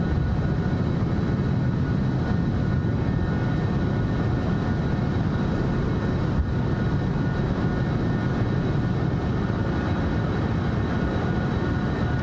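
Steady, loud broadband jet engine roar from a Citation Sovereign business jet climbing out after takeoff with the gear retracting in a flight simulator game, a continuous rumble holding even for the whole stretch with no voices.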